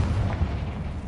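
A Confringo spell blast goes off in Hogwarts Legacy as a single deep, rumbling explosion that fills the short moment, heavy in the low end and loud, with no voices.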